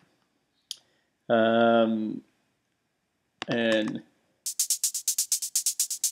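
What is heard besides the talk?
shuffled 909 hi-hat in electronic track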